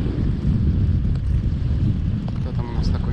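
Gusty autumn wind buffets the microphone beside a pond during carp and crucian fishing, a loud, rumbling low roar that keeps going without a break.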